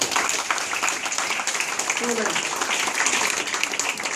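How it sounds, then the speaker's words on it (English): Applause from an audience at a quality circle case study presentation, a steady dense wash of clapping lasting throughout, moderately loud, with a faint voice briefly audible beneath. "So everybody should give hand applause"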